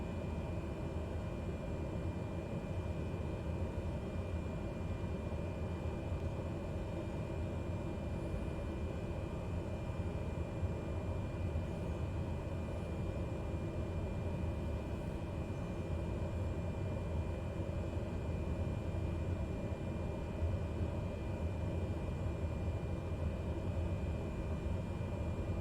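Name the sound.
airplane engine while slowly taxiing, from a flight video game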